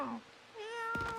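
A cartoonish cat meows twice in the video game Starground, the second a pitched, auto-tuned sounding mew, with a brief thump at the end, close and fairly quiet.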